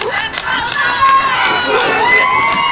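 A crowd at an outdoor wrestling show cheers and shouts, with children's high yells and whoops rising over a dense, loud roar of voices for a few seconds.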